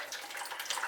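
Water rinsing and flushing through fresh orchid potting media around Phragmipedium roots, a soft, steady hiss and trickle close by, quiet and uninterrupted with no talking.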